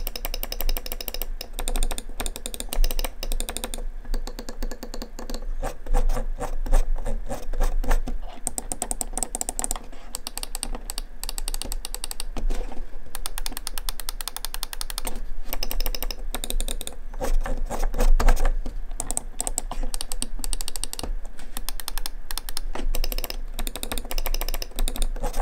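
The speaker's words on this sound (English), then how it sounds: "So here's a sound test for you guys." SteelSeries Rival 3 gaming mouse buttons clicked rapidly and continuously up close, a dense run of sharp plastic clicks in irregular bursts, with a faint background hum and no speech.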